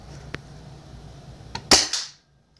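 A homemade bullpup nerf blaster fires a dart with a sharp snapping burst and brief hiss, preceded by faint clicks, close and fairly loud, then silence.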